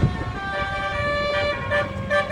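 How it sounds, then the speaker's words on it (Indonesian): A passing bus sounds its musical telolet horn near a toll gate in a rush of melodic toots over road noise, loud and close for about two seconds. "Bis apa nih yang lewat sini nih?"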